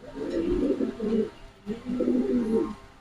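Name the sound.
boat-beak pigeons cooing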